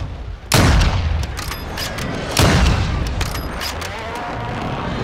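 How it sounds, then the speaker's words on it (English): Two heavy blasts about two seconds apart, loud and close, followed by crackling and burning noise from a thermite grenade hitting an ATV in a multiplayer shooter game. "Throwing thermite! Their ATV is dusted!"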